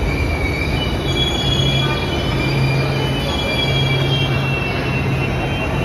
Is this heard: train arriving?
yes